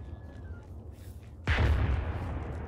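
In the ArmA 3 military game, an artillery shell strikes close by with a sudden heavy boom and a rumbling, decaying roar after a stretch of quieter background ambience.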